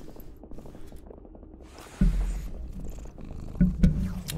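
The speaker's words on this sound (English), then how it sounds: "Getting all the attention, purring like a maniac." Timber, a cat, purrs in a steady, rapid rumble close to the microphone, with louder bumps and rustles as he rubs against it.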